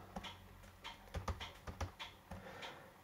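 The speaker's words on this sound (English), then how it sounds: "and now we can start typing" Keys click on the compact keyboard of an Ericsson MC218, a Psion 5mx handheld, in a quiet room, a quick irregular run of soft taps, some louder presses standing out.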